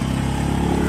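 A new motorcycle's engine runs steadily up close, a continuous loud mid-pitched hum with fine rapid pulsing, unbroken and without talk.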